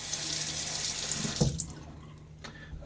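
A tap runs over a shaving soap container while its threads are rinsed, a steady hiss of water that cuts off partway through, leaving a few faint drips and clatters.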